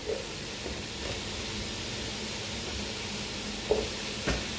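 Mushrooms and celery sautéing in a pan, a steady sizzle and hiss with a couple of brief stirring clinks near the end.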